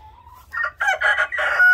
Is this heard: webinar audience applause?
no